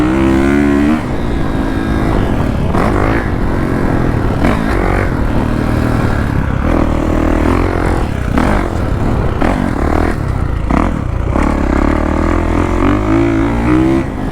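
Small pit bike riding on a sandy dirt beginner track, its engine droning loud and steady throughout with rising and falling revs as it accelerates and eases off.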